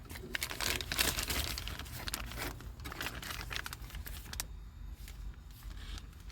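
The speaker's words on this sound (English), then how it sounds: "It's an empty plastic bag." Close, busy crinkling and rustling of plastic, loud at first and then quieter with scattered crackles, no voices.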